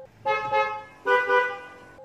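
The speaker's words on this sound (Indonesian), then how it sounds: "dia juga membunyikan klaksonnya." A motorbike horn on a night road ride honks twice in quick succession, two bright, buzzy, fairly loud beeps standing out over faint engine hum.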